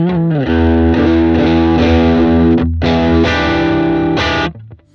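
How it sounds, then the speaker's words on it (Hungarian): Electric guitar played through an Ibanez Mini booster pedal with all knobs set to the middle, giving loud, sustained, driven chords that ring out, cut briefly, then resume before fading at the end. "itt jön a booster, minden középen van, nem tekergettem semmit sehová"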